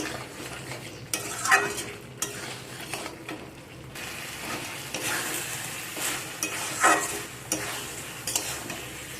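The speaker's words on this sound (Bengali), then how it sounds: "এভাবে করে 1 মিনিট নাড়াচাড়া করে ভালো করে একটু সব কিছুকে মিশিয়ে নেব।" Pointed gourd being stirred and mixed with spices in a pan, a soft continuous sizzle under repeated scraping strokes of a spatula at an uneven rhythm, close-up, with no one speaking.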